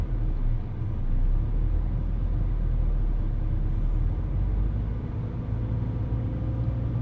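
A car engine hums with the accelerator lightly pressed to about 1500 rpm during a beginner driving lesson. A steady, low rumble is heard from inside the cabin, unbroken and fairly loud, with no talking.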